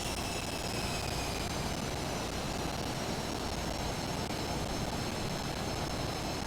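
An aircraft taxis slowly in Microsoft Flight Simulator, a steady, faint engine drone with a thin high whine, constant and unchanging throughout with no voices.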